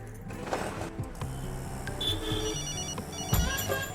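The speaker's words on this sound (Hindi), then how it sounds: "फिर से फोन कर रही है।" Mobile phone ringing during an auto-rickshaw ride near a train, a thin electronic ringtone over steady traffic and engine rumble, moderately faint.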